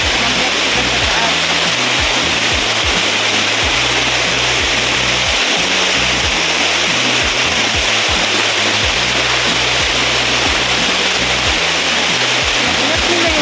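Diguisit Falls in Baler, Aurora gives a loud, steady roar of rushing, cascading water that fills the whole stretch without a break, close and constant, with muffled voices faintly beneath.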